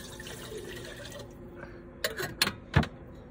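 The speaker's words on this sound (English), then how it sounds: "I got my water all ready in here. I'm gonna put it right in here." Water is poured into a pot for boiling in a campervan, splashing in a few uneven bursts toward the end over a steady low background hum.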